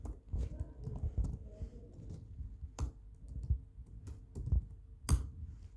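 Computer keyboard typing during an HTML web development lesson: a few scattered, sharp key clicks with pauses between them, close and fairly soft over a quiet room background.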